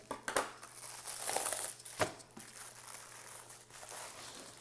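Book packaging being cut open, with crinkling and crumpling of plastic wrap and a sharp snap near the middle, close and moderately quiet, with no talking.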